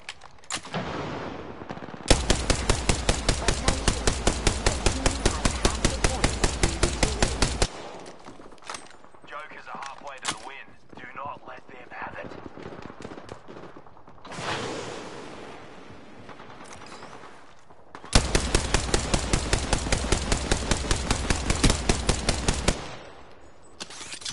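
Rapid automatic gunfire from Apex Legends comes in two long, loud bursts of evenly spaced shots at a fast steady rhythm, with a stretch of quieter game sounds and brief noises between them.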